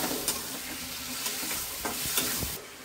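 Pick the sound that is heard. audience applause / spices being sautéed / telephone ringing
spices being sautéed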